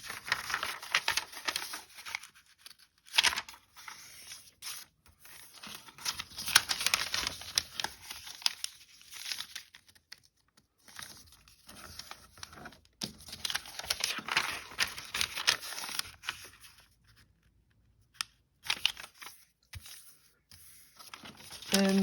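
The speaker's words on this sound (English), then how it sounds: "I'm going to fold in thirds, following those score lines" Scored paper being folded into thirds for a triangular accordion book: repeated crisp crinkling, rustling and creasing strokes, close and fairly quiet, in bursts with short pauses.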